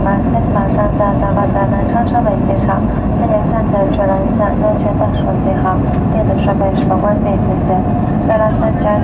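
Steady airliner cabin drone fills the interior of a plane on a flight in China, broadband and unbroken throughout, with faint voices and a muffled announcement blending into the hum.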